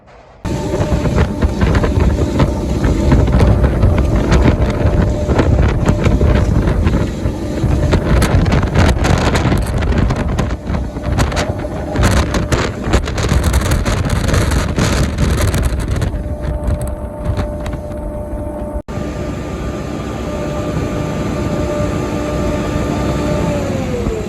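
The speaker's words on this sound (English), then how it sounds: "it's terribly windy" Strong wind on a farm buffets the microphone in loud, continuous gusts, roaring and rumbling throughout, with a faint steady tone beneath.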